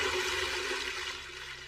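Magically conjured water in an anime, a steady rushing, flushing gush of liquid with broad hiss, loud and continuous for under two seconds without any voices.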